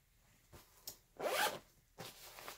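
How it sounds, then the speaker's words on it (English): A YKK zipper on a 5.11 AMP 72 backpack is drawn in several short pulls, the longest a loud rasping zip in the middle, heard up close and alone. "Obviously YKK zippers all throughout the bags"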